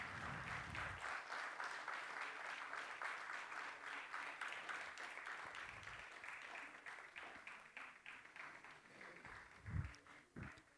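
Sustained audience applause fills a felicitation ceremony at a cultural centre, steady and fairly distant for most of the stretch before thinning out near the end.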